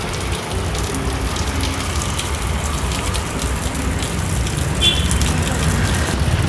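Water pouring steadily down from a leaking municipal building in Karkala, a continuous splashing patter like heavy rain striking the ground, loud and unbroken, with a brief faint high tone near the end.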